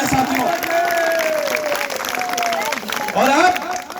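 An audience claps for Thapa ji in a loose, sustained round of applause. Voices talk over the clapping, and it surges again near the end.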